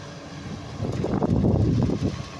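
A Tata Hitachi Shinrai backhoe loader at work gives a low, rumbling engine drone that swells midway and stays steady and fairly close, with no talking.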